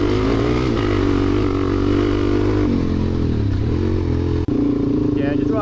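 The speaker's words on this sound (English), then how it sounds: "he's killing it on the little CRF 300" A Honda CRF 300 dirt bike climbs a hill in Sundown National Park with a loud, steady engine drone close by. Wind and rattling clatter run underneath.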